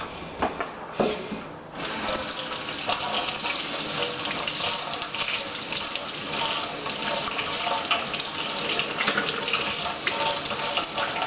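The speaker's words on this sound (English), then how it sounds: "So I gave Farrah 2 really good washes with dish soap" Running tap water pours steadily into a sink while a Mego doll's hair is washed with dish soap, a continuous splashing rush that begins after a few faint knocks and holds loud to the end.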